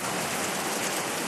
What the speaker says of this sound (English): As you can see, it's raining very badly.